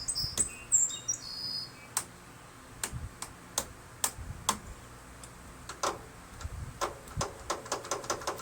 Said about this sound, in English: When I push the push button, I hear the solenoid clicking.